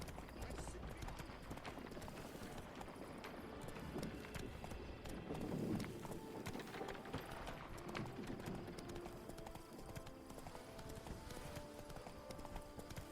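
Hooves of Geralt's horse Roach clip-clop steadily on a road in the Witcher 3 Blood and Wine world, a continuous trotting rhythm under game music and ambience, with speech heard now and then.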